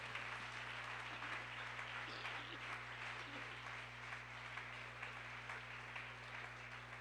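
Church congregation applauding during a Holy Communion service, steady dense clapping throughout with a constant low hum underneath and no pauses.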